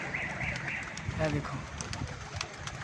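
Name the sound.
pigeon with pearl-like markings cooing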